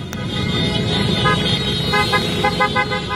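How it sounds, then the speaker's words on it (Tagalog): Several motorcycle horns honk together in short overlapping toots over a steady rumble of engines and traffic, loud and close, at a protest outside the Chinese Embassy. "sabay-sabay silang nag-ingay sa pamamagitan ng busina ng kanilang mga motor"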